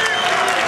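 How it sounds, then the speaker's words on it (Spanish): A brief burst of crowd applause and clapping at a live metal concert, loud and close. "¡Un aplauso!"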